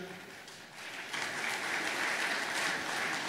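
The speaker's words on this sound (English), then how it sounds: "you all deserve that round of applause" Delegates at the closing ceremony of the 38th AIPA General Assembly of ASEAN applaud, a dense wash of clapping that swells after a quieter first second and holds steady, heard from across a large hall.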